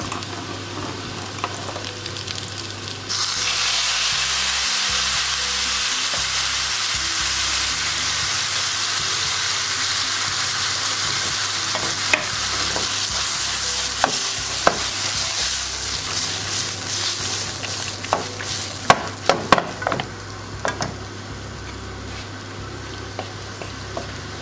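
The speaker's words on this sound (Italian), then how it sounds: "E adesso vado ad aggiungere un mestolo di acqua che abbiamo messo a bollire." Salted boiling water ladled into a hot pan of orecchiette, which keeps up a steady loud sizzle and steam hiss, with scraping stirring clatters toward the end.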